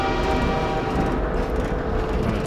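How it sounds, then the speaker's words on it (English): Train ride in the video game Half-Life 2, a steady rumbling rail carriage with low wheel and track noise filling the scene at a constant loud level, no voices. "On a train to somewhere."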